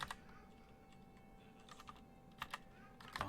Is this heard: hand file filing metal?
no